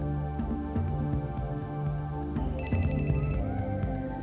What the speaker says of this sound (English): When the phone rings, sound is detected by the ears.